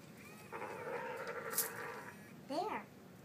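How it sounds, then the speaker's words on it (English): A female dog growls for about two seconds in a steady, low rumble, followed by a short, rising whine-like vocal burst, all close by over faint background noise. "Maybe I know why she's growling."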